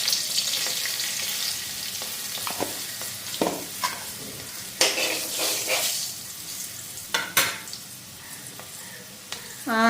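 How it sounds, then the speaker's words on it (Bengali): Turmeric hits hot oil already holding nigella seeds and green chili, giving a steady loud sizzle with scraping stirs and clinks of a utensil against the pan in a home kitchen. "এখন হলুদটা তেলটার মধ্যে দিয়ে দিই।"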